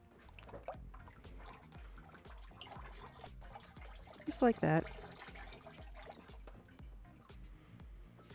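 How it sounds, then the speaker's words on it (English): Sweet pea ceramic glaze pours onto a pottery piece in a short liquid splash lasting under a second, set amid steady quiet room noise, with a voice speaking softly around it. "I'm not sure that I've got enough to dip that, so I'm going to pour this on"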